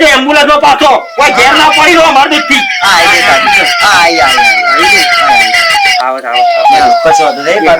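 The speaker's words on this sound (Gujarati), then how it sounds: "એમ્બ્યુલન્સ આવી રહી ગાડી આવી" An ambulance siren wails loudly and close, its rising and falling tones repeating steadily under a busy mix of talk and street noise.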